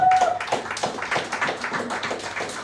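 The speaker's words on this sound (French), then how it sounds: "Applaudissez le Seigneur" A church congregation claps together in quick, rhythmic bursts during a worship service, a lively patter of hands with a brief tone at the start.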